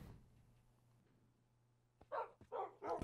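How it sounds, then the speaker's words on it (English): A Minecraft dog barks three times near the end, loud and close after a quiet stretch with faint background hum. "Okay, yeah, I see you right there, dog."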